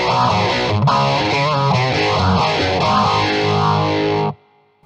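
Distorted electric guitar run through the script-style phaser of a BOSS GX-100 touchscreen processor, a sweeping whoosh cycling steadily over sustained chords for about four seconds before stopping abruptly into silence.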